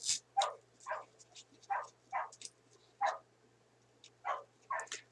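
Dogs bark close by in a scattered, repeated series of sharp barks and yips over about five seconds, with no talking.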